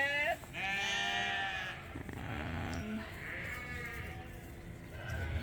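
Sheep bleat on a farm, with several loud, wavering calls close by that overlap one another above steady background noise.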